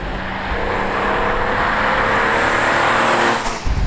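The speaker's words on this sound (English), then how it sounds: "let me get the engine started and we'll go for a drive." A BMW Z4M Roadster's engine fires up and revs, a loud close growl that swells and holds before dropping off abruptly near the end.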